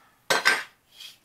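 A metal spatula strikes a wok twice in quick succession, loud bright clanks close by, followed by a softer metallic scrape, with no talking.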